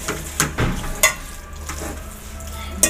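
Minced beef is stirred in a pan for beef macaroni, with scraping and clattering strokes over a soft sizzle and several sharp utensil knocks, close by.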